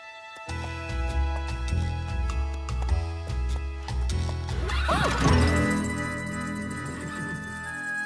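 A horse gives a loud, drawn-out neigh midway through, rising over a steady backdrop of plucked string music.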